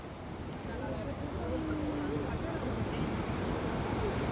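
Steady rushing roar of Athirappilly waterfall near Kochi, Kerala, heard from below, broad and continuous, with faint wind buffeting the microphone throughout.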